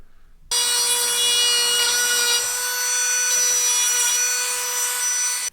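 Sandpaper works on a part of a Toro 3100D cutting unit, making a sudden, steady, high-pitched whirring grind that starts abruptly and holds nearly unchanged for about five seconds, loud and close.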